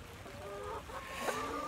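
Chickens on a farm during winter chores, with soft overlapping clucks and fowl calls at close range, a louder call near the end, set against a steady background murmur.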